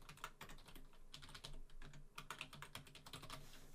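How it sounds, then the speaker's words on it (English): Keystrokes on a computer keyboard while text is entered in graphic design software, a quick irregular run of close, crisp clicks that goes on without a break and with no voices. "I'm just going to type."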